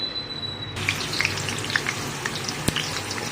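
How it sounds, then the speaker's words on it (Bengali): Steady crackling sizzle of potatoes frying in hot oil with salt and saffron for chicken biryani, with scattered pops and one sharp tap partway through; close and continuous. "এই তেলে আলুটা ভেজে নেব"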